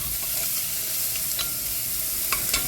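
A fist-sized onion fries in a soup pot with a continuous close sizzle, broken by a few scraping stirs of a utensil against the pot.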